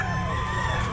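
Chickens crowing at a pet market, a brief, close, sustained harmonic call over a noisy crowd background, no talk within it.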